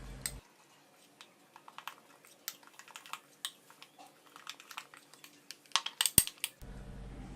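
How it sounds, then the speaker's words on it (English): Partially cooked vegetables being stirred into masala rava idli batter in a bowl, with soft, scattered scraping and clinking of a utensil against the bowl, quiet and close, with no talking. "transfer all these partially cooked veggies into the batter bowl and give it a good mix again"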